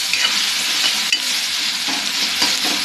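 Ginger and garlic sauté in a hot pan with a continuous bright sizzle, broken by occasional scraping stirs, close and loud with no talking.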